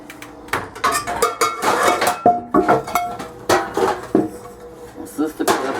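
Pots and pans clatter and clank in a home kitchen as someone rummages for a pan, sharp metallic knocks and clinks coming in quick irregular bursts, close and loud.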